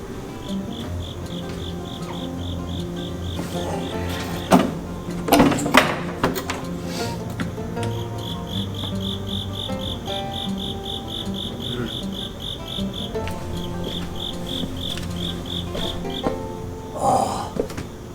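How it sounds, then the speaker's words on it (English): Steady, rapid cricket chirping in regular pulsed bursts throughout, with occasional clicks and knocks of handling nearby. "I found the cricket and I think I got him."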